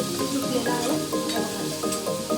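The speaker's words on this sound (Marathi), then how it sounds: "फ्राय करून घेऊया हे बघा सुरू आहे" A finely ground paste sizzles steadily in oil in a pan for a curd curry, with a close, continuous frying crackle and faint stirring.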